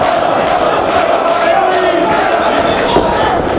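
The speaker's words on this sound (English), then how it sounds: "The Philadelphia crowd hustling it up." A Philadelphia wrestling crowd at a Ring of Honor tag-team show cheers and chants loudly, a thick, unbroken wall of voices that stays at full strength from start to finish.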